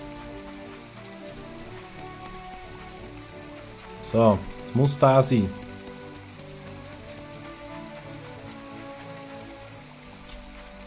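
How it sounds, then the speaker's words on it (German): Steady rain falls on a rainy day in the video game My Time at Portia, a soft continuous patter throughout with a voice cutting in briefly midway. "Ich finde es übrigens auch geil, dass es mal einen Regentag gibt."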